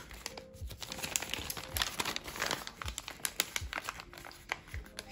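Crinkly packaging from a parcel of Etsy plants is torn open and handled up close, giving a continuous busy rustle with sharp crackles and tearing bursts and no speech.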